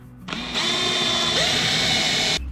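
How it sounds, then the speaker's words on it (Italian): A Lidl cordless drill runs steadily for about two seconds inside a 4x4 camper during renovation work, a loud, close whine with a slight pitch shift midway, starting and stopping abruptly. "Trapanino Lidl, number one ragazzi, in camper ci vuole"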